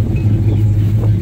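A 1968 Plymouth Road Runner clone with a 440 engine idles close by, a loud, steady low rumble with a slight throb and no talk.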